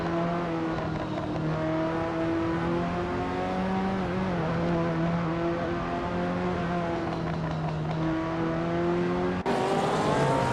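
Race cars roar continuously around a track, several engines droning and shifting pitch together as they lap, with a sharper burst of noise near the end. Among the field is a 1985 MG Metro 6R4 rally car.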